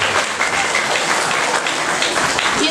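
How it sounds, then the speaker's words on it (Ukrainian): Loud, sustained applause from a school audience for a student team after a stage performance, dense and continuous with no speech over it. "Ще раз оплески нашій команді «Фортуна»."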